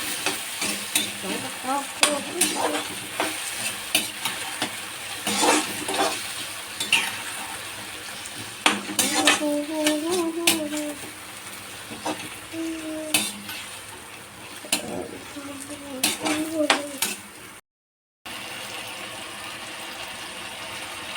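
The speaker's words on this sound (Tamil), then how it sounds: "தக்காளி போட்டு வச்சு இப்போ நல்லா வதக்கிக்கலாம்." Tomato frying in a pan for masala idli sizzles continuously up close, broken by repeated sharp scrapes and clinks of a spatula stirring against the metal, with a brief dropout near the end.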